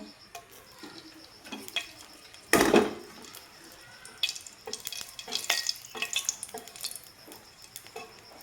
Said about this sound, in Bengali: তো ওই কড়াতেই আমি দিয়ে দিব তেল আর দিব শুকনো লঙ্কা